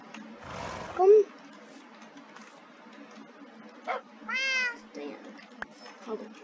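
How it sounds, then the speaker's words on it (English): A Minecraft cat meows a couple of times, with a short rising cry and a longer wavering call, amid quiet background sounds. "Kitty cat."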